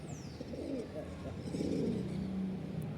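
Pigeons coo on a rooftop, close by, with soft low throaty coos rising and falling over a faint background hum.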